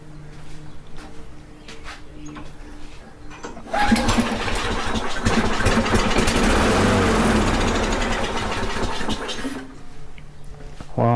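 A Craftsman lawn mower engine coughs to life after a quiet stretch, runs loud and rough for about six seconds, then dies back down, with faint handling noises before and after.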